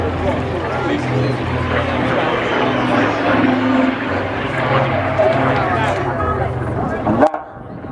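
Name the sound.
Spitfire aircraft flying at an air show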